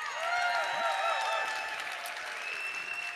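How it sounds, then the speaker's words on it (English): A short burst of applause during an online morning meeting, dense clapping with some whoops and cheers, fairly loud and fading slightly toward the end. "can we give a big round of applause to Lori for making that all happen for us?"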